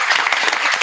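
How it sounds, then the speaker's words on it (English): A conference side-event audience gives a brief burst of dense, lively clapping, close and fairly loud. "ask you again to clap for"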